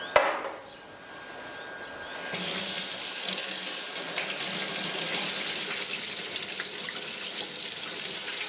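Tomato seeds are washed under running water: after a faint start, a tap opens and a loud, steady gush splashes continuously close by with no speech.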